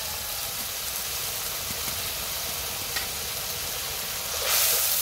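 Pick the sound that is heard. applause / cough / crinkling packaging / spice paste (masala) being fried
spice paste (masala) being fried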